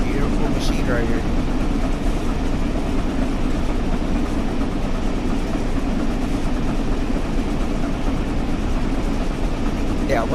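Flying Scotsman steam locomotive running in Train Sim World 4, a continuous loud rumbling drive with steady mechanical churn throughout, a brief higher whistle-like tone near the start.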